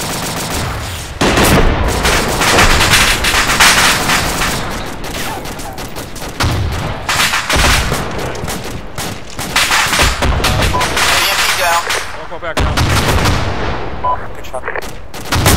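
Heavy gunfire in a military shooter game, with dense overlapping rifle and machine-gun bursts and booming reports, loud and continuous throughout, with faint voices under the shooting.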